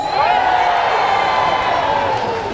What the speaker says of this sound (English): Always our loudest crowd in 140 countries.